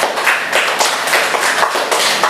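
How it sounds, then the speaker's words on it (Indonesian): A short burst of applause in a classroom lesson, many hands clapping together in a dense, steady patter at close range. "berikan tepuk tangan"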